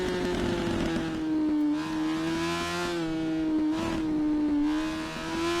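A motorcycle engine in the GP Bikes racing game screams near its rev limit, with a high sustained whine that dips and surges through short gear changes, loud and continuous with no voices.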